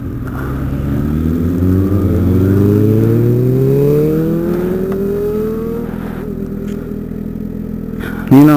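Motorcycle engine heard from the rider's position, winding up steadily through the revs in a long rising pull, then easing off, with wind noise throughout and a brief bump at the end.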